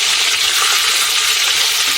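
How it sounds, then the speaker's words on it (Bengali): Chicken meat fries loudly in a pan, a dense, steady sizzle with no talk over it. "এটা মেজে নাড়াচ্ছি, মাঝে মধ্যে নাড়া দিতে হয় একটা দুটো"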